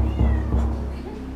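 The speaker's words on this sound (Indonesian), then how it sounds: "Suara kucing, Pak. Ada kucing." A cat meows loudly and close, a drawn-out cry over low background hum, with no talking over it.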